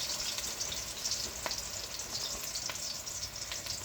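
Plant-based meat fries in a pan on lowered heat, giving a soft, close, steady sizzle with small pops and crackles scattered through it, no voices.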